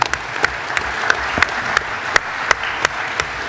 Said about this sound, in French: Merci Hélène, on peut vous applaudir.